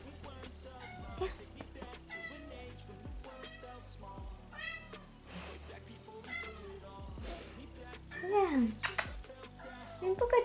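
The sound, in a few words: cat meowing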